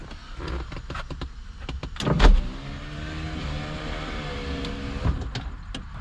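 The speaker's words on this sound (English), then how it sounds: "now we're just gonna open the window." The power window on a Nissan 350z door winds down with a steady electric motor whine, framed by clicks and knocks of the door mechanism at the start and end.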